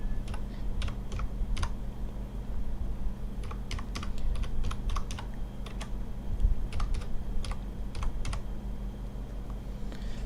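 Rapid keystrokes on a computer keyboard as English alphabet letters are typed, coming in short irregular bursts over a steady low background hum, close and moderately loud.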